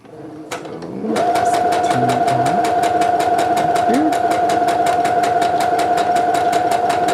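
A sewing machine stitches fabric continuously through a thread saver, its fast, even mechanical chatter starting after a moment and then running loud and close without a break.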